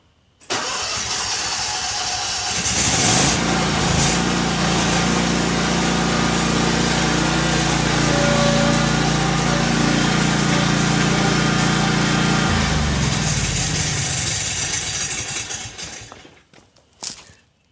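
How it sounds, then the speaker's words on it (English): A John Deere zero-turn mower engine cranks for a couple of seconds, catches and runs at a loud, steady roar for about ten seconds before shutting down, recorded close up with no talking. "Let's attempt to crank the mower."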